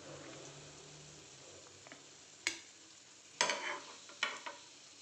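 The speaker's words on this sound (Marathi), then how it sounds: "टिक्की चांगल्या आता फ्राय झालेल्या आहेत." Aloo tikki patties frying in oil in a pan, a steady soft sizzle underneath with a few sharper crackles and spatters bursting out near the end.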